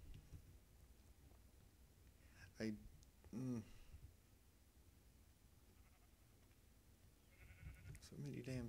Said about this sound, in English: So many damn sheep.